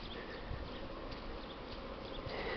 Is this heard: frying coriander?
no